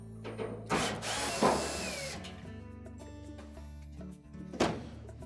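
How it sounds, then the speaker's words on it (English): A power driver backs screws out of the front panel of an LG dryer in a few short whirring bursts with clicks and metallic rattles, close by and fairly quiet. "we'll remove the 4 screws that are located across the top of the front panel"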